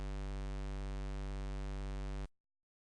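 A steady, low sustained G1 tone at 49 Hz holds evenly for about two seconds, then stops abruptly, leaving silence.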